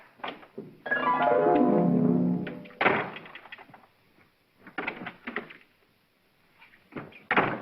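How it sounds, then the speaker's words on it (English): A door creaks open with a long, drawn-out groan, then shuts with a couple of solid thunks, followed by scattered knocks and bumps in a quiet room in an old comedy film scene, with no talking. "Doors just don't open and shut themselves."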